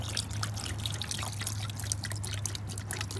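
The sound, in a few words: pouring bleach into bucket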